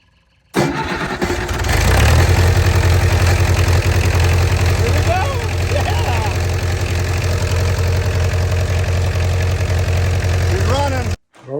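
A small engine, just fitted with a new fuel pump and given a little fuel, cranks, catches and settles into a steady, loud idle that runs close by for about ten seconds before cutting off, with faint voices underneath.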